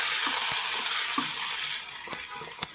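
Cashews and raisins frying in hot ghee for sweet moong dal payasam, a dense close sizzle with a few stirring clicks near the end, no talking.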